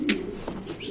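Lahori pigeons at a pigeon farm give a short cooing call, with a bright chirp at the start and softer low coos after, close and brief, no one talking.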